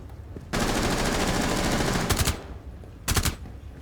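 Bursts of automatic gunfire from a Rainbow Six Siege match: a long sustained volley, then two short rapid clusters of shots, loud and close, with no talking.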